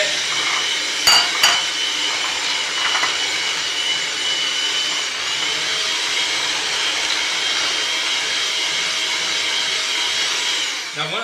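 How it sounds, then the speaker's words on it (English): Flour being beaten little by little into cake batter in a bowl, a steady, continuous mechanical whir, likely an electric mixer, running close and loud throughout with a few sharp knocks near the start and no talk. "we're going to beat the flour in with the batter, little by little"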